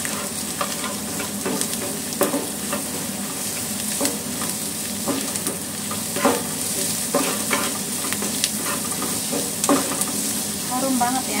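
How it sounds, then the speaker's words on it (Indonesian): Shallots and garlic sauté in oil in a pan for Palembang-style nasi samin, a constant close sizzle with repeated scraping and clattering stirs throughout, and no clear voices. "Kemudian kita tumis juga bawang merah dan bawang putihnya."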